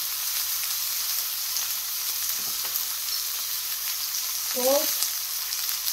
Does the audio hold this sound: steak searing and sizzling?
yes